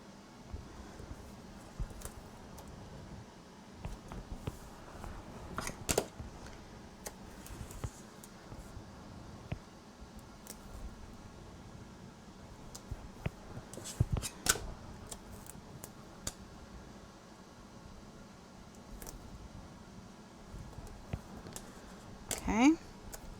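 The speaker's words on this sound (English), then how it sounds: "I'm gonna put tape on the back of these. And cut them all out." Scissors snip through paper and taped cutouts in quiet, scattered bursts of short crisp cuts, mixed with light handling noise and a steady room hum during a craft session.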